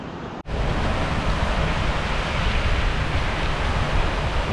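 Loud river rapids roar in a steady, dense wash of rushing water that starts abruptly after a brief gap and holds continuously, close and overwhelming.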